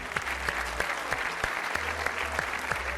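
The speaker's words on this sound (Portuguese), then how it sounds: "Um aplauso para o Eduardo!" A television game show studio audience gives a dense, steady round of applause as contestant Eduardo is introduced on The Floor, loud and continuous throughout.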